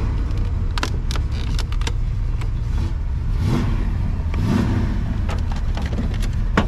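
A 1971 Dodge Challenger with a Hemi engine driving along, a steady throaty V8 rumble with a couple of rising revs, fairly close and continuous with no talk.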